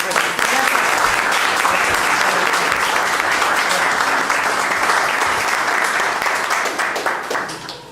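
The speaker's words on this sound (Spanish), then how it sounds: "Pues un aplauso ahorita a Memo," An audience at the Club de Exploraciones gives Memo loud, sustained applause, dense clapping that fills the whole stretch before tapering slightly at the end.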